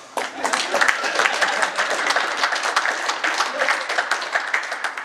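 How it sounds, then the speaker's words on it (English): An audience at a talk in Newmarket, Ontario claps continuously for about five seconds, a full, even round of applause from a seated crowd. "You can clap at that."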